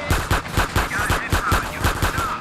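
Rapid bursts of video game gunfire aimed at police, loud and close, a steady stream of punchy shots in quick succession with no talking.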